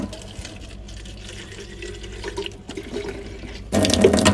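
Water filling a bottle, a hollow trickling pour heard under light background noise, then rising abruptly into a louder, splashing gush near the end.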